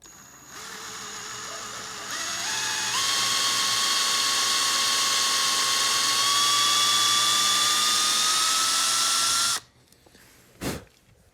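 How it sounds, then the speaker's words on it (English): A power drill fitted with a 5/32 drill bit bores into a shotgun stock. A high whine climbs in pitch and runs steady for about seven seconds, then cuts off, followed by a brief clunk, all close. "5/32 drill bit, you're going to drill in the middle of this hole down until it reaches the depth of the tape."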